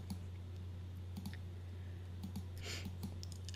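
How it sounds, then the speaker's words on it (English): A computer mouse clicks a few times in quick pairs and singles while selections are made in an image editor, faint over a steady electrical hum. "So again, I'm just clicking and dragging"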